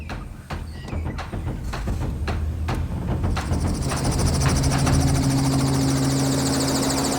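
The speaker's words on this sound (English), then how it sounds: "Here goes the chopper," A yellow helicopter's rotor chop builds to a loud, steady whir with a high engine whine, close by, after a few sharp clicks at the start, during elephant collaring work.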